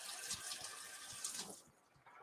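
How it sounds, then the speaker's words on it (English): Tap water runs steadily into a sink while a ThermoWorks thermometer is rinsed in a home kitchen, a faint continuous splashing hiss that drops briefly before resuming. "we're gonna rinse off our ThermoWorks thermometer so it doesn't get ucky"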